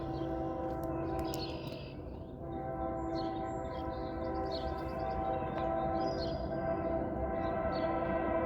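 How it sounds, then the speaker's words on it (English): A Norfolk Southern freight train with a Kansas City Southern locomotive third in the consist rumbles past at Ravenna, a steady low roar with a faint horn-like tone in the distance. "NS 61N blasting through Ravenna with a KCS Ace third out."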